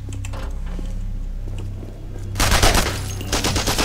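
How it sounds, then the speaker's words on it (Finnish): Automatic gunfire from the video game Operation Thunderstorm rattles in rapid bursts during the second half, loud and close, following a quieter stretch of game ambience. "Mä just ammuskelin tässä käytävällä."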